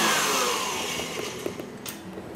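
Electric mixer whisking Italian meringue buttercream for cupcake icing, a steady loud motorized whir that runs continuously with slight wavering, close up and alone.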